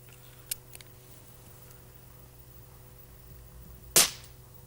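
An airgun fires plastic pellets while plinking in a back garden: a sharp, loud crack near the end, with a smaller snap earlier and faint ticks over a quiet low hum, close by.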